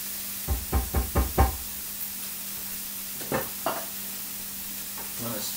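A spoon stirs onions and canned refried beans in a pot, knocking against the sides in a quick run of four or five close, sharp taps, then a couple more scattered clacks over a low steady hum.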